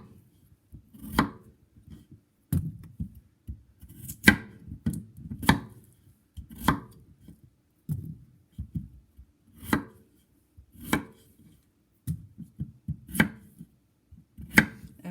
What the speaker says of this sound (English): Let's cut these up.